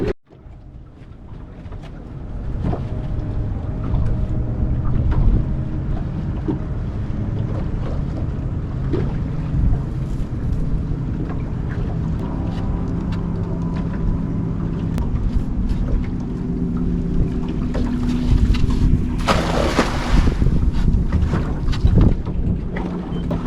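Wind gusting across open water on a cloudy, windy day while a boat drifts on a mullet cast-netting trip, a steady close rush with faint water movement and no talk.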